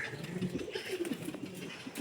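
Pigeons coo softly nearby, low repeated rolling calls overlapping in an irregular rhythm against faint background noise.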